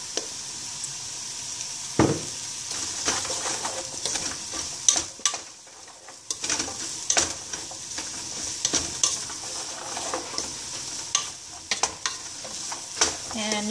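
Vegetables sauté in an oiled pan for a pasta primavera, a steady close sizzle broken by repeated scraping stirs and clinks of a utensil against the pan, with no talking.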